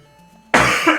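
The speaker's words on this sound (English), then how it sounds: "pardon my cough," A single sharp cough bursts out close to the mic after a brief near-silence, followed by a rough breathy tail.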